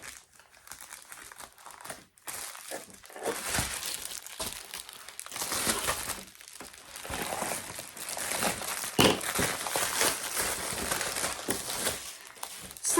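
Plastic packaging of an Amazon diamond painting kit crinkles and tears as it is opened, a steady run of close, loud rustling and crackling with sharper rips in between.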